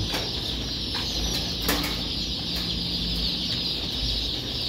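Chicks peep continuously inside a poultry house, with ventilation fans along the sides humming steadily beneath the dense chorus of small birds.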